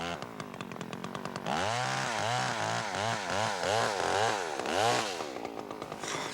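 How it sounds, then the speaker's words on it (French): Chainsaw cutting a dead tree, starting with idle putters then revving into loud, repeated rising and falling bursts of the motor biting into the wood, close by. "Ça en fait du bruit, une scie mécanique."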